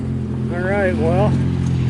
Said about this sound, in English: that sounds nice. Where can I get a muffler like that?